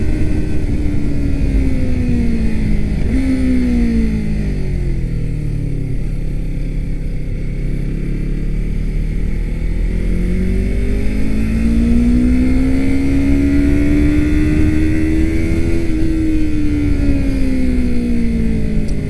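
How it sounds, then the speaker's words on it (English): Motorcycles and cars move along a street, a loud, continuous engine drone whose pitch slides up and down as vehicles rev and pass, with a rough, wind-like rush beneath it and no talk. "With all the motorcycles and cars going through and whatnot."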